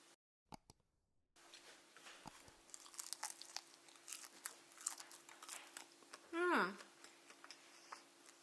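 Crisp bites and crunchy chewing of air-fried typhoon shelter shrimp coated in breadcrumbs with scallion, close and quiet, a series of small crackles followed by a brief voiced sound near the end.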